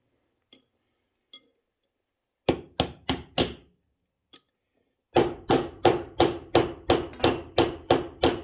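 Sharp metallic hammer strikes ring out close by on copper-bronze metal, first a few scattered taps, then a steady run of rapid, evenly spaced blows.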